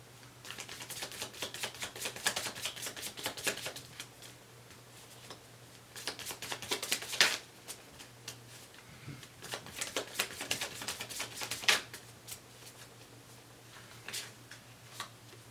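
Tarot cards are shuffled and drawn in bursts of quick riffling and flicking, close and fairly quiet, with a steady low hum underneath and brief pauses between rounds.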